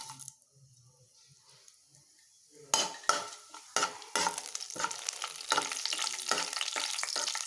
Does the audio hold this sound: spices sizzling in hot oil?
yes